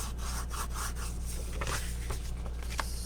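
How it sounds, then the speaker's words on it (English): Score lines on paper gift bags being burnished with a tool, producing quick, close scratchy rubbing strokes over a low steady hum, repeated in short bursts. "I'm going to varnish all these score lines."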